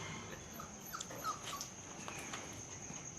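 A Labrador puppy whimpers faintly in a few thin, high cries over a steady background hiss, with no talking.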